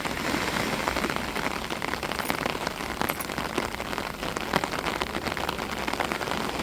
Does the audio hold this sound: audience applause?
no